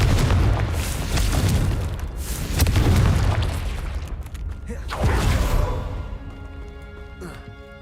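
Confringo spell explosions in Hogwarts Legacy land as a couple of heavy, rumbling booms with crackling bursts, loud and close, fading to a metallic ringing tail.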